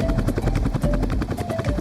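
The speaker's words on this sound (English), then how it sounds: "This is a helicopter" A helicopter's rotor chops rapidly and evenly over a loud low engine drone, close and continuous with no voices.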